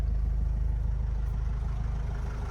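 A 2013 Renault Trafic 2.0 van engine idles with the air conditioning running, a steady, low hum without a break, with a faint even whir above it and no talking.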